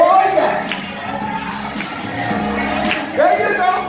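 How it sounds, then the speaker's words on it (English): Church congregation at Antioch Baptist Church clapping hands along with the music, lively crowd noise and shouts mixed with a preacher's voice urging them on, fairly loud and continuous. "Clap those hands."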